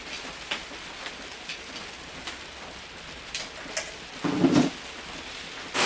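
Steady rain drums on a workshop roof, a dense continuous patter with scattered louder drips and a brief heavier gust of noise near the end, with no talk over it.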